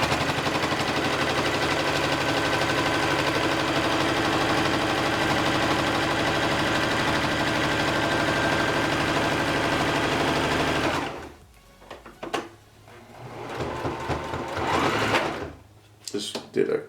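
A sewing machine runs in a fast, continuous whir for about eleven seconds while stitching fabric mask strings, then stops, leaving quieter handling noises.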